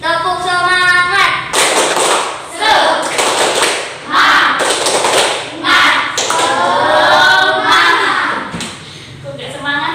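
A primary school class performing the 'tepuk semangat' spirit clap, patterned bursts of hand claps and taps alternating with children's chanted voices.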